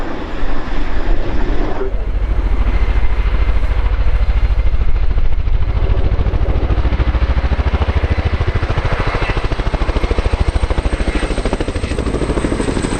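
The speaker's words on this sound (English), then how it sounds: "The display you see today really demonstrates how manoeuvrable this extremely large helicopter is." A large military helicopter at a flying display at RIAT 2019 roars steadily and loudly throughout, its rotor thudding in a fast rhythmic pulse with a high engine whine above, close and continuous.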